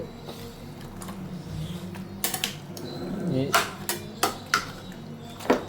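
Fish head curry made with a six-kilo amur carp being stirred in a pot: several sharp metallic scrapes and clinks of a spoon against the pot's side, spaced irregularly over a low bubbling background, with no talk.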